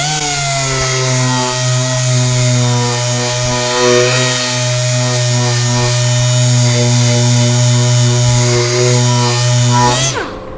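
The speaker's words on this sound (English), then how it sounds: "We're going to sand that and clean that up too." A power sander on wood runs loud and continuous for about ten seconds with a steady motor whine, then cuts off abruptly.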